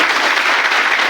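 Audience at a direct selling business meeting in Bilaspur breaks into loud, dense applause, a steady wash of many hands clapping close by throughout the short moment.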